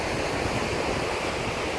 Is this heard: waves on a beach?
yes